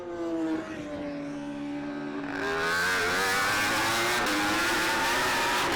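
In GP Bikes, a Pro Superbike from the Bridgestone CSBK 2024 series races out of a corner. Its engine climbs from a lower drone into a loud, rising, high-revving wail that stays close and sustained.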